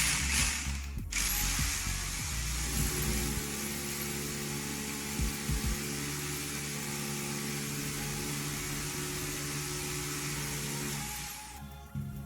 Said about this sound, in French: On va ensuite la passer en perceuse à marteau.